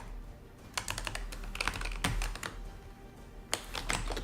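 Computer keyboard keys clicked in quick irregular bursts while a git commit message is typed, close and crisp with short pauses between runs of keystrokes.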